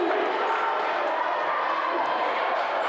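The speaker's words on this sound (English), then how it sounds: "And this crowd is getting into it." Loud indoor crowd roaring and cheering steadily at a women's college basketball semifinal, a dense, continuous wash of noise with no breaks.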